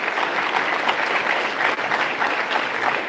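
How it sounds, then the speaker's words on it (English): An audience at a high school spring sports awards ceremony gives the varsity team a round of applause, dense continuous clapping from a crowd filling the room at a steady level. "So if y'all would give the varsity guys a round of applause this time as well."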